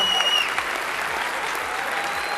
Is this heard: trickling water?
no